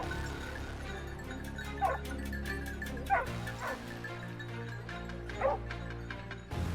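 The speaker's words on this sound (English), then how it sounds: "The sudden bark of the hunting dogs echoed" Hunting dogs in a forest during a wild boar hunt bark and yip in several sharp, close bursts with some whimpering, over a music bed at low level.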